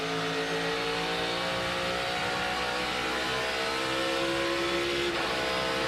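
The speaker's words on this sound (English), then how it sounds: "So that was the first car I actually heard shifting in 1 and 2 as well." A race car engine at the 2022 Rouff Mortgage 500 revs loud and steady, its pitch climbing and dropping through gear shifts, with no talk over it.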